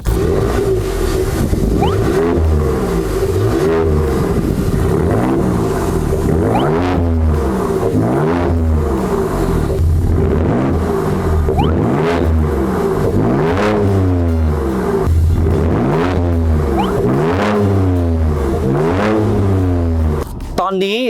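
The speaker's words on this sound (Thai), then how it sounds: "เดี๋ยวเราไปฟังเสียงท่อกันดูครับ" A 2022 Ford Ranger Raptor pickup's exhaust revs again and again, loud and close, deep rumbling roars rising and falling in steady waves.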